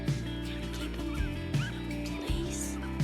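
Geese honk repeatedly at close range in short nasal bursts over a steady background hum.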